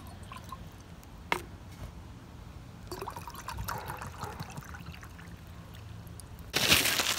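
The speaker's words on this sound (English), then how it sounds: "we're going to start off by adding in 2 cups of water" Two cups of water poured into a pot while preparing a backpacking meal, a soft trickling and splashing that builds through the middle and ends with a louder, brighter gush, with no talk over it.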